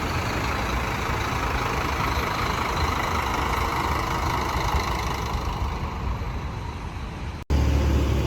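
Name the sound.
Agramas double decker bus engine idling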